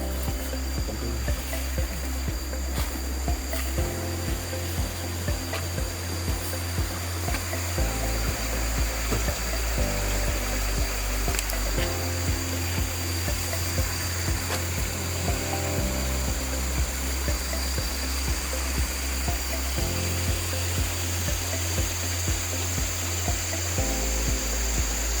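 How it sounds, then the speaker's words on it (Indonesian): River water rushes continuously over a dam intake weir, a loud, steady roar with a low rhythmic throb pulsing underneath. "inilah bentuk intake tersebut, berupa intake bendungan yang digunakan untuk menangkap air di sungai"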